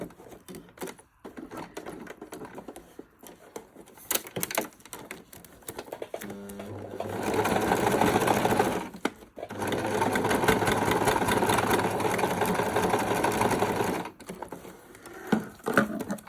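A sewing machine runs in two steady bursts as it stitches a cross-shaped seam on a homemade fabric makeup bag, with a short pause between them and quieter handling sounds before and after.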